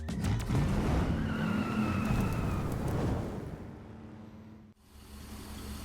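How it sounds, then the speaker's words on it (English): A Chevrolet Corvette with a V8 muscle-car engine roars loudly at close range with tire squeal, then the sound fades away into the distance as the car pulls off. "So what's this? Ooh, nice Corvette."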